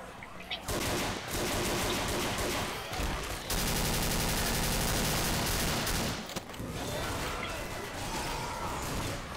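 Sustained gunfire in the zombie shooter Left 4 Dead, No Mercy campaign: loud, dense bursts of rapid shots filling most of the stretch, with brief pauses and a continuous roaring burst in the middle.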